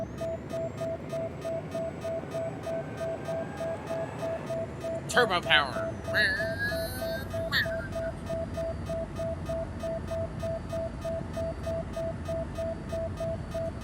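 In the video game Occupy Mars, a suit battery warning beeps in a steady, rapid, regular pulse that runs throughout, interrupted midway by brief game effects, while someone talks over it.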